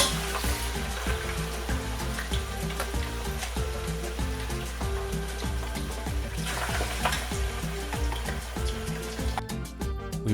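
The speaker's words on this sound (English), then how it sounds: "Let that baby sizzle." Chicken sizzles and crackles in hot oil, a dense steady frying hiss with popping bursts, close and continuous with no talk.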